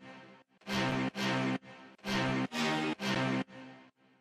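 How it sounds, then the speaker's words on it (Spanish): A synthesized brass sample in music production software blares out a short phrase of punchy, sustained stabs with sharp gaps between them, loud and close, with nothing else playing. "lo primero sería este brass"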